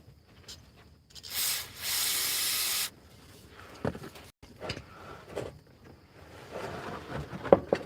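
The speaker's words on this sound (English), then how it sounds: "I gotta spray this up a little bit more." A single hissing spray burst of about a second and a half, close by, surrounded by quiet rubbing and clattering handling noises.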